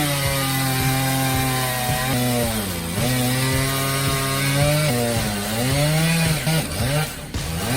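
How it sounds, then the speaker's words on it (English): A powerful steel chainsaw with a 59-inch guide bar cuts through wood, its engine roaring loud and continuous with a shifting pitch that dips as the chain bites deeper. "The most powerful steel chainsaw on the planet, ready for any challenge"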